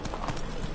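Roach the horse's hooves clip-clopping in Witcher 3, a quick steady run of close hoofbeats with a faint voice underneath.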